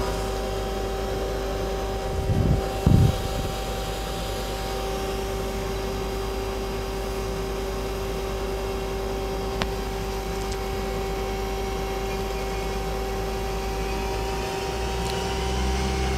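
Mazak Quick Turn Smart 200 CNC lathe spindle spinning at 3,000 RPM: a steady, continuous mechanical hum with a fixed whining tone, unchanging throughout, with a couple of brief knocks early on.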